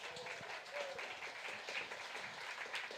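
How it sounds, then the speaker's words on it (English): An audience at a Nerd Nite evening talk event applauds the hosts and venue, with steady, fairly soft clapping that fills the moment without pause. "Give them a round of applause."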